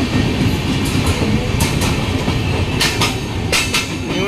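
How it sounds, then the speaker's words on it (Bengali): An express train running from Lucknow to Delhi rushes past near a metro line, a steady loud roar of wheels and rail noise with rhythmic clatter throughout. "পাস করবে লখনৌ দিল্লি আগরকটি এক্সপ্রেস।"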